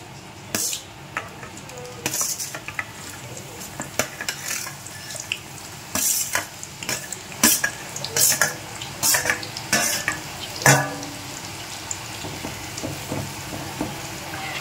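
Biryani ingredients fry in a home kitchen pan until golden, with a soft continuous sizzle broken by sharp scrapes and clinks of a spoon stirring against the metal.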